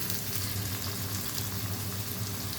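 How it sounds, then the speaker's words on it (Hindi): Chopped tomatoes dropped into garlic frying in oil for mash dal, giving a steady, close, loud sizzle with no pause and no voices. "ये जो हमने टमाटर चॉप किए हैं ना ये डाल देंगे"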